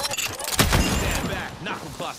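Rapid bursts of video game gunfire in a battle royale match, loud punchy shots and booms mixed with game sounds, with a voice talking over them.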